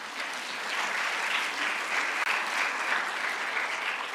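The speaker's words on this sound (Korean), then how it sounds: "한번 박수 치시기 바랍니다" A church congregation applauds steadily for several seconds during a Sunday service, even clapping filling the room at moderate distance with no pause.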